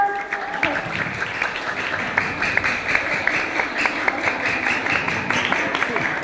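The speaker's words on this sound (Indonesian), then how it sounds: "Ya, tepuk tangan semuanya." An audience at a school student council (OSIS) candidate debate gives a steady round of applause, moderately loud with individual claps audible throughout.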